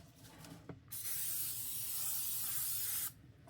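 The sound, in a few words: cooking spray sprayed onto a pan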